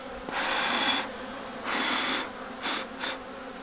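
Honey bees buzz close and fairly loud in four swelling bursts separated by quieter gaps, with no voices.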